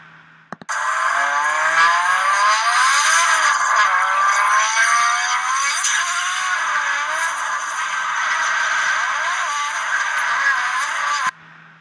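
A race car fitted with a Link ECU accelerates hard down a track straight, its engine note climbing in pitch through several gear changes under loud, constant road and wind roar, with no talking.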